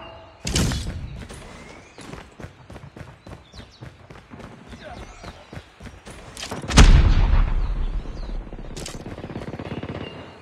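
A grenade explosion in Call of Duty during a Search and Destroy ranked match, a sudden heavy boom partway through amid scattered gunfire, footsteps and game noise, with a second sharp blast near the start.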